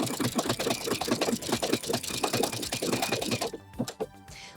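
A home sewing machine running a zigzag stitch along a raw fabric edge while making a dress, a fast, steady close-up chatter of needle strokes, stopping near the end with a few slower, softer clicks.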